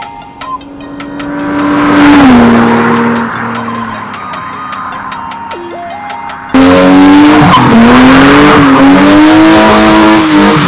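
A Lexus IS300 with a newly replaced rear axle does burnouts, its engine revving hard and its tires squealing in long, loud, sustained skids. A sudden louder stretch of engine roar and tire squeal comes partway through.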